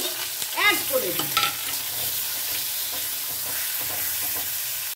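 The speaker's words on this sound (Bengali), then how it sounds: "বেগুনগুলো একটু নাড়াচাড়া করে নিলাম" Eggplant pieces frying in a pan while being stirred, a close steady sizzle with scraping spatula strokes and clinks early on, no voices.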